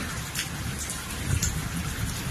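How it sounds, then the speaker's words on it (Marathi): Heavy rain pattering densely and steadily on surfaces nearby, a continuous wash of drops with no voices. "पाऊस बघा कसा चाललाय मस्त जोरात"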